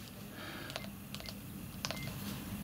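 Soft keypad presses on an Icom IC-A25 airband radio while entering a frequency: several faint, quick clicks and short electronic beeps spaced irregularly over quiet background hiss.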